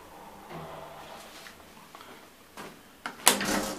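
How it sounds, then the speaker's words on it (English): A 1994 KONE M traction elevator at a shopping centre slides its doors shut: a soft mechanical rumble builds, then ends in one sharp, fairly close thud. "Doors are quite efficient. They close almost immediately after you press the button."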